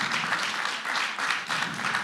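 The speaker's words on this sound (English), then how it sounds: "All right, let's give her a round of applause." Brief burst of crowd applause at a live show, a dense wash of clapping that swells and dips in waves, fairly loud and close, with no voices over it.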